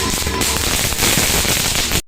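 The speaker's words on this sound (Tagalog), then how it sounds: "Isang oras bago mag alas 12, nag-practice muna ng paputok tong aking bilas." Firecrackers set off about an hour before midnight on New Year's Eve in Pampanga, Philippines, a dense, loud, continuous crackling barrage that cuts off abruptly.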